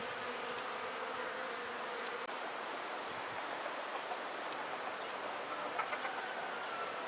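A captured honeybee swarm settled inside a nucleus hive hums in a dense, continuous buzz at a steady, moderate level, with no voices.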